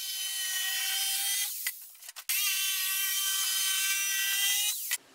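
A power saw running along the edge of a plywood board held to a bearing guide makes a loud, steady whine with harmonic tones, briefly dropping out and restarting before stopping near the end.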